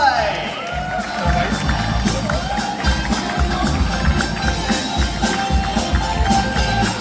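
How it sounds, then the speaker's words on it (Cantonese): Crowd cheering and clapping as a director, producer and two actresses are welcomed onstage at a Hong Kong film premiere, a steady loud wash of applause and shouts with a host's amplified voice over it. "有請馮志強導演、翁子光監製、麗英同埋陳晶儀，掌聲歡迎幾位"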